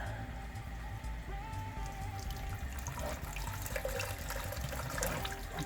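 Homebrewed wort pours steadily into a fermenter during brew day, giving a continuous loud splashing and gurgling stream with no pause across the whole stretch.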